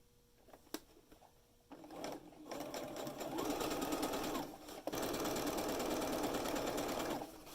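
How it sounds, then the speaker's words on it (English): A sewing machine stitches bias facing onto a garment neckline. After a quiet start, a steady close-up motor hum with rapid needle clatter begins near two seconds, pauses briefly, then runs on evenly. "We're gonna go ahead and start stitching."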